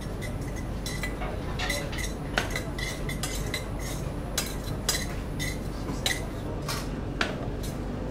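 Crab dish ingredients with black pepper being mixed in a restaurant kitchen, giving repeated close clinks and scrapes of a utensil against a bowl over a steady background hum.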